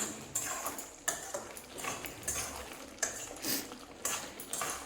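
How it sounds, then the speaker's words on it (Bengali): A spoon scraping and clinking against a wok as coriander leaves are mixed into kadai chicken, with sharp metallic taps about once a second over a soft background. "ধনেপাতা দিয়ে আমি ভালো করে একটু মিশিয়ে নিচ্ছি।"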